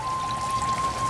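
Steady pouring water feeds an aquaponics media bed on a bell siphon, a constant close rush and trickle with no talk over it.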